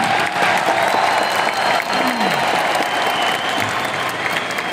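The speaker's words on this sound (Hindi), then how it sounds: "इस बात के लिए इतनी सी तालियां बहुत कम मानी जाएगी" A large crowd at a company anniversary event claps loudly and continuously, a thick, close burst of applause running the whole time with no speech.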